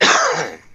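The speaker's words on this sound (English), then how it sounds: "That's a weed cough." A single harsh, loud cough from smoking weed bursts out close by and fades within a second, with no talk around it.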